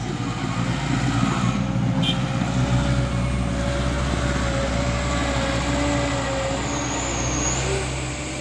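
A heavy diesel Mitsubishi Fuso Super Great tanker truck engine drones steadily as it labors uphill, a constant low rumble with a faint whine rising over it.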